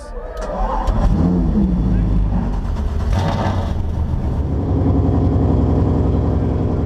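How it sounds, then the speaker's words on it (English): Race car engines fire up together at the Cadillac Grand Prix of Sonoma, a dense, loud roar of many engines starting and idling close by, with revs rising and settling. "Drivers, start your engines."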